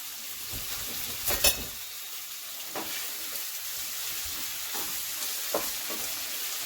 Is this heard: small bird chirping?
no